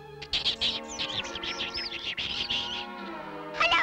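A baby bird in a Smurfs cartoon chirps and tweets in a rapid run of high, fairly faint calls, with a brief pause before a final burst.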